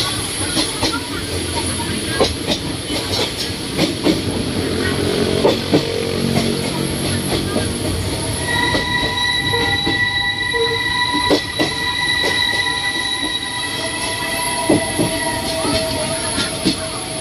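A special tourist train hauled by a steam locomotive runs on rails through Bangkok, with a continuous rolling rumble, wheel squeal, hiss and intermittent clicks of the wheels, close and loud throughout.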